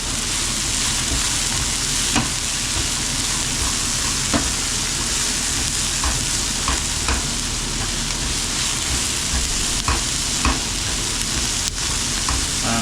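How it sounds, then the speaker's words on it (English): Onions fry in a pan with a dense, constant sizzle that runs throughout, broken by occasional light crackles and stirring scrapes. "we're just frying the onions"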